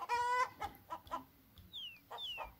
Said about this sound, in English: the chickens are making beautiful music